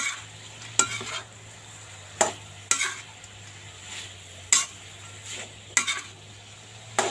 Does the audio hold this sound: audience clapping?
no